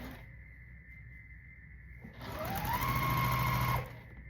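A sewing machine runs briefly while stitching quilt block seams, starting after a quiet hum and whirring steadily at close range for under two seconds before it stops.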